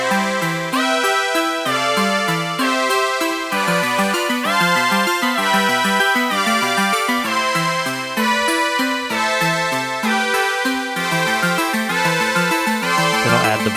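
Layered synths from a produced track play together in Ableton Live: a dense, busy mix of rhythmic arpeggiated chords and a bouncing bass line, loud and continuous without vocals.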